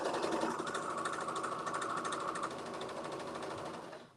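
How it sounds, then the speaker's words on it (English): A sewing machine runs a line of top stitching down the center of fabric, a close steady mechanical whir of rapid needle strokes that winds down at the end. "I'm going to put a little line of top stitching down the center"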